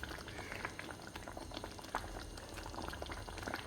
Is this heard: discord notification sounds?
no